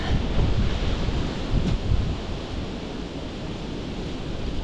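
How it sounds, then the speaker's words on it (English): Wind blows hard and steadily outdoors on a rugged climb near the Walls of Jericho, a loud, continuous roaring gust noise buffeting the microphone with no speech. "Wind has picked up."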